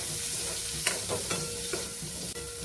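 Steamed green peas and sprouted pulses being sautéed in a pan for a sprouted salad: a steady close sizzle with a few soft spatula scrapes and stirs, no talking.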